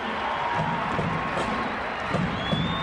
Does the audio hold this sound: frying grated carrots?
no